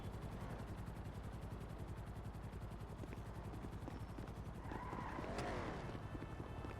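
A distant helicopter in a video game beats with a steady rotor chop under loud game noise, with a brief rising whine and scattered impacts near the end; no talk is heard.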